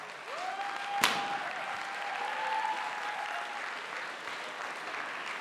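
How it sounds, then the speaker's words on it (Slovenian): Steady audience applause fills a hall at a St. Nicholas concert, continuous and fairly even, with one sharp knock near the start and a faint whistle-like tone held through the middle. "Še en aplavz, še en aplavz."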